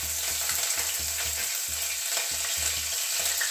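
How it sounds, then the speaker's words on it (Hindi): Chopped green chillies tossed into hot oil with spluttering cumin seeds for a semolina and potato kachori, giving a loud, close, steady sizzle and crackle with faint stirring scrapes. "इसमें 2 हरी मिर्च बारीक काट कर लिए हैं इसको डाल देंगे"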